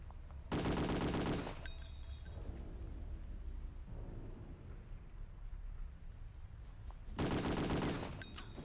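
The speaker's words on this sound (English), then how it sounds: "Good old Thompson submachine gun" Thompson submachine gun in Return to Castle Wolfenstein fires two loud, sustained automatic bursts, one near the start and one near the end, with quieter in-game ambience and rumble between them.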